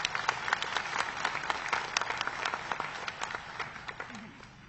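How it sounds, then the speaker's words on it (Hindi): A seated audience at a NABARD state credit seminar and rural prosperity awards event claps to welcome the chief minister, the crisp applause holding steadily before tapering off. "मैं चाहूंगा एक बार आप सब लोग ताली बजा के उनका स्वागत करें।"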